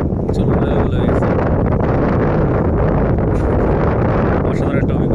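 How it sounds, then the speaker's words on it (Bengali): Strong wind gusts over a wide, rough river at a remote sandbar, roaring steadily and buffeting the microphone throughout with no pauses. "বাতাস কিন্তু বইতেছে প্রচুর, এখনো বাতাস হচ্ছে"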